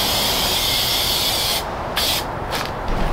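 Spray can laying down a heavy clear coat on car wheels: a loud continuous hiss that breaks into a few short bursts near the end, close up with no talk.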